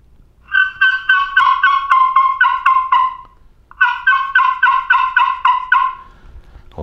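A slate turkey call imitating a wild turkey, two close, loud bursts of rapid yelping notes with a pause between them, and nothing else heard.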